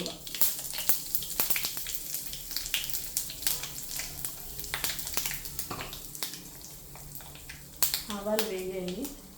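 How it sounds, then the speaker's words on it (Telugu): Mustard seeds and asafoetida frying in hot oil for a mango pickle, a steady close sizzle with scattered pops and crackles, while a person talks over it. "ఆవాలు వేగాయి, పచ్చడిలో పోసేద్దాం."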